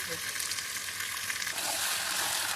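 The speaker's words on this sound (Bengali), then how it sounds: "তারপরে চিকেনটা দিয়ে ভালো করে কষতে হবে" Chicken sizzles and fries steadily in a pan, a close, continuous hiss of hot oil with faint scraping from stirring, no voices.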